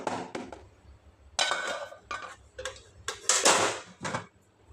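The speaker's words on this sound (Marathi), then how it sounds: "थोडंसं टॅप करून घेऊया इतके ना सगळं बबल्स ना बाहेर यायला पाहिजे" A cake tin filled with batter is tapped against a surface to release bubbles: several sharp knocks in uneven bursts, close and fairly loud, with light metallic rattle between them.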